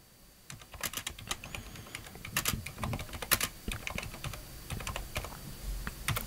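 Typing a text prompt on a computer keyboard, close crisp key clicks in an irregular, steady run of taps with occasional louder keystrokes and no talking.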